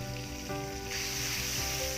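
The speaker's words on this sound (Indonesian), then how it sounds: "Tumis bawang putih sampai harum." Chopped garlic sizzles steadily in a tablespoon of hot margarine in a pan, a dense continuous frying hiss that brightens partway through, with no voices.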